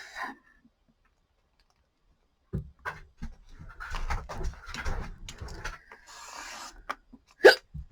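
A person hiccups sharply while doing a paper craft, making a glassine bag. Between the hiccups come quiet clicks and rustling of paper being handled, and a louder hiccup jolts out near the end.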